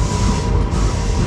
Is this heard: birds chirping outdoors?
no